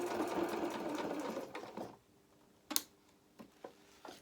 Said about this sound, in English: I'm sewing in between the two sides of the bodice